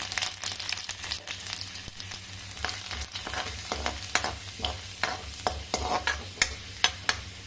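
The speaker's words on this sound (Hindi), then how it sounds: "यहीं पे हम लहसुन काट के रखे थे, इसको डाल देते हैं।" Chopped garlic and cumin frying in hot oil in a pan for chole samosa, a steady soft sizzle under repeated sharp scraping clicks of a spoon stirring against the pan, growing more pronounced toward the end.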